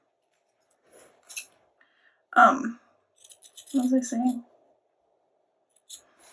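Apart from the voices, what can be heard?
scissors cutting paper for a journal cover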